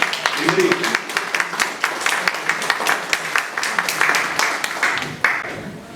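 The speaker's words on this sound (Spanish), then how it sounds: "recibimos con un fuerte aplauso a Ernesto Blume Rocha" Scattered, uneven clapping rises to welcome a speaker at an anniversary event in honour of Jorge Basadre. Individual claps stand out sharply against a murmur of voices and thin out over several seconds.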